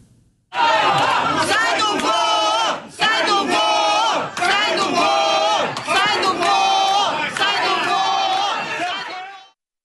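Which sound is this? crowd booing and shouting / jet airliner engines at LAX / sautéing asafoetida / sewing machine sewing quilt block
crowd booing and shouting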